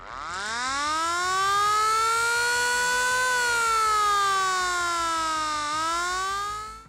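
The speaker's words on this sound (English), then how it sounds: "These sirens consisted of a high-pitched wail, followed by a low drone, echoing through the cityscape to warn people of impending danger." Tokyo air raid siren rising into a loud, steady wail that sags to a lower drone, a continuous harmonic tone alone with no talk over it.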